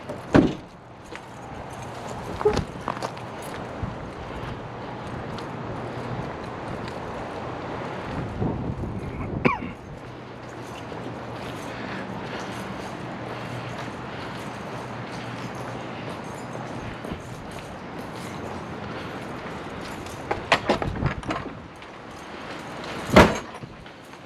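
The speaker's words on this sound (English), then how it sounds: "Man, that gate keeps slamming." A yard gate slams shut a few times outdoors at a home in Tempe, Arizona, with loud sharp bangs near the start, around the middle and near the end over steady background noise.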